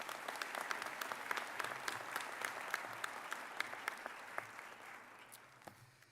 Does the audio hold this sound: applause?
yes